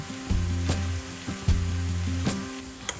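Garlic sizzles in hot oil over a low flame while chili sauce is being made. A steady crackling fry runs throughout, punctuated by a few sharp knocks and a low humming tone.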